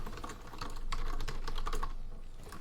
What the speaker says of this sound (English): Look, you can hear the angry typing.